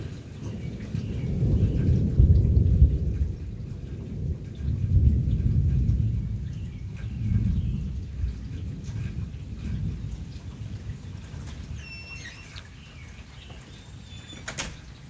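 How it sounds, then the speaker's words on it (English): Evening thunderstorm in Ohio heard from a back porch, deep rolling thunder rumbling in several long swells that fade over time, with steady rain hiss and faint bird chirps near the end. "a little taste of some relaxing sounds from our nice little thunderstorm going on here in Ohio."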